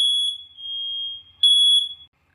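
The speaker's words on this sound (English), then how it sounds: "I don't know what is wrong with the fire alarm." A household smoke alarm emits two loud, shrill, sustained electronic beeps, close by, with near silence between and after them.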